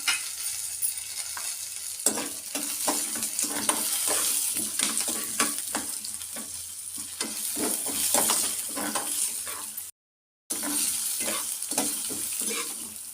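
A spoonful of sesame seeds fries in a pan with urad dal for a mint chutney tempering: dense, rapid crackling and popping under a steady sizzle, broken by one short gap of silence.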